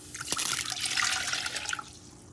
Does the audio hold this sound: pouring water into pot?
yes